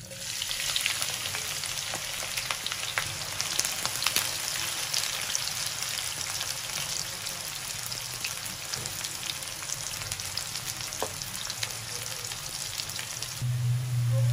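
Sliced onions frying in hot oil for a beef keema, a loud continuous crackling sizzle that holds steady throughout with occasional pops.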